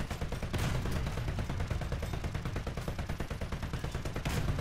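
Rapid, continuous gunfire in the tank combat video game War Thunder, a dense rattling stream of shots that stays loud throughout with no pauses.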